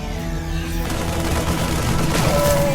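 Marines firing in a StarCraft match, a loud, continuous rattle of rapid gunfire and explosions with a voice audible beneath the din.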